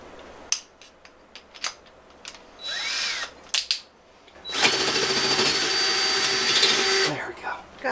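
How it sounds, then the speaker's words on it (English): A power drill with a big bit runs in short bursts and whirs, then settles into a longer, loud sustained drilling run up close, with people talking around it while installing vehicle seat belts. "Give me the other big drill bit right by there."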